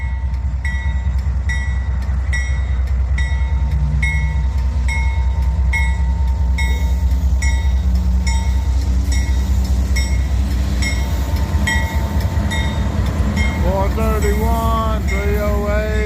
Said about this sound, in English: There's our train leaving